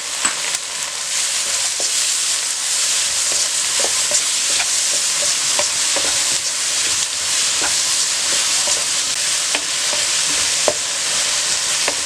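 Noodles seasoned with salt, white pepper and black pepper fry in a hot pan with an even, loud sizzle and frequent light stirring clicks and taps.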